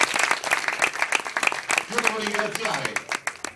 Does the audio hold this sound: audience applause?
yes